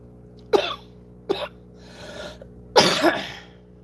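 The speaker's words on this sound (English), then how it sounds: "Sorry about my cough" Several sharp, harsh coughs from a person nearby, spaced unevenly with one quieter cough in the middle, over a low steady hum.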